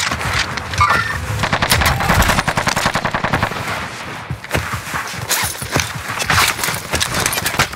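Gunfire from the video game Warzone crackles in rapid automatic bursts and repeated sharp shots. The firing comes close and loud, continuous across the clip with brief gaps.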